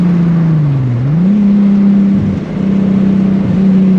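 An all-wheel-drive Volkswagen Corrado with 250 horsepower accelerating: a loud, close engine drone from inside the car whose pitch sags, climbs, then holds steady through a couple of brief gear-change dips.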